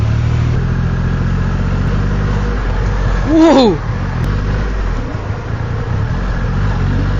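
A motorcycle with a 2.5-litre engine rumbles steadily up close in first gear, then revs in a brief rising surge before settling back; a man exclaims once over the engine.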